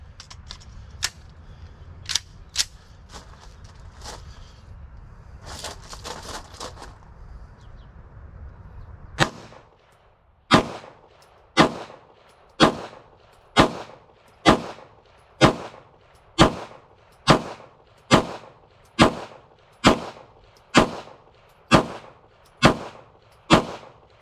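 A pistol built from a Walther frame with a Canik TP9 SFX slide fires a string of sharp, loud single shots at an even, brisk pace, about fifteen reports, after some earlier scattered bangs and handling noise.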